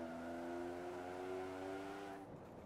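A car in Forza Horizon 4, tuned with a reduced final drive, accelerates with a steady, loud rising engine drone that holds for about two seconds, then cuts off abruptly.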